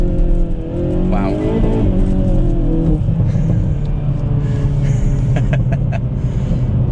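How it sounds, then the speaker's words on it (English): A 2022 Hyundai Kona N SUV with an 8-speed DCT transmission accelerates hard. A loud close engine climbs in pitch, snaps through a quick gearshift and keeps pulling, and a brief exclamation is heard near the end. "I'm not going to launch this car, but we'll do a bit of a pull."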